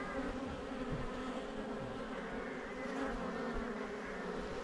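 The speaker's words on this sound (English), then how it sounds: "Just be careful with the bees." A dense, steady buzzing of many honey bees at an open hive fills the air, a continuous close drone with no talking.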